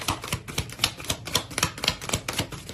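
Tarot cards are shuffled close by in a fast, rapid run of crisp papery flicks and taps that continues steadily throughout, with no talking.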